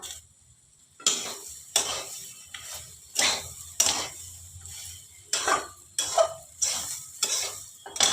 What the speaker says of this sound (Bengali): এবারে আমি বাদামগুলো দিয়ে দিলাম